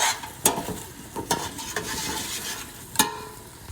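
Curry frying in a pan is stirred, giving a constant soft sizzle. Several sharp scraping clacks of the spoon against the pan come at irregular intervals, close and fairly loud, with no talking.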